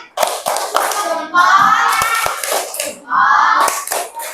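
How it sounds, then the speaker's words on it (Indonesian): A class of children claps for a group presentation in a rhythmic patterned cheer, with bursts of sharp hand claps alternating with chanting children's voices, loud and close. "Oke, beri tepuk hebat."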